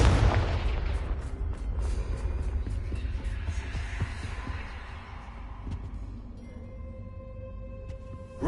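Repeated fire-blast spell explosions in Hogwarts Legacy, a dense run of booming bursts and crackling impacts that stay loud for several seconds before thinning into a quieter rumble, with no talking.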